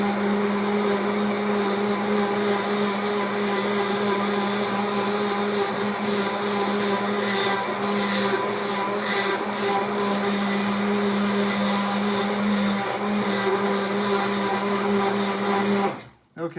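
A blender runs steadily on fermented hot sauce, a loud continuous motor whir with churning that holds at the same pitch before cutting off abruptly at the end.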